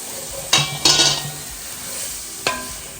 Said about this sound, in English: I'm going to add just a touch of that broth.